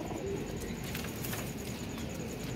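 Pigeons coo softly in a loft of breeding pairs, low rolling calls blending into a steady background hum.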